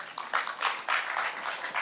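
Audience applause at a defense industry talk concert in Changwon, a steady patter of clapping swelling in bursts, moderately loud and filling the hall without any talk over it.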